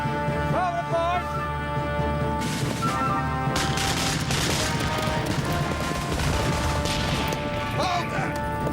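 A ship's crew fires a ragged volley of guns in a naval battle scene, a sustained crash of blasts and booms over constant loud rumble, with shouted voices heard early on.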